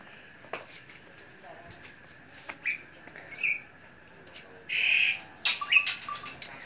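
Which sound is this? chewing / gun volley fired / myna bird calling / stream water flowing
myna bird calling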